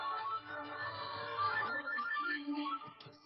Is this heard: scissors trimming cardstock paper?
no